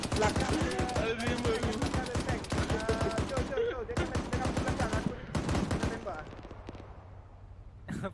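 Rapid automatic gunfire in the military shooter game Arma 3, dense volleys of loud shots in bursts that taper off near the end, with players talking over the shooting.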